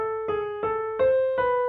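A short piano melody phrase from a piano piece, played with one note unevenly accented by the thumb; four or five single notes in steady succession, close and soft, with no voices.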